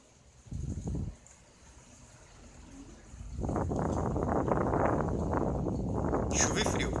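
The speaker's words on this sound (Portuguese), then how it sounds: "primeiro impacto da chuva" Rain begins to hit outdoors with cold wind, a short gust first, then a dense, steady patter that swells and holds, with a brief high rattle near the end; no talking heard.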